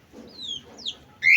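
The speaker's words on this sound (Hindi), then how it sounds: "और ये चिड़िया देखो।" Pet birds kept at home alongside rabbits give a few short chirps and calls, moderately close, ending in a louder sharp squawk, with no talk.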